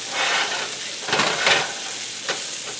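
Onion and garlic sizzle in a frying pan with a steady, close hiss. A few louder crackling surges rise from it as the pieces are stirred.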